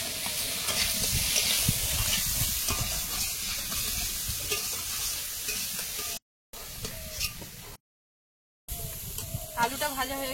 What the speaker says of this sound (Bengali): আলুটা ভাজা হয়ে গেছে, উঠিয়ে নিচ্ছি।